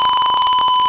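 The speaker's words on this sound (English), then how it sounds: "The buzzer beeps for 1 second indicating the process completion." A loud electronic buzzer on a catering robot sounds a steady high beep for about a second, close and piercing, with no other sounds.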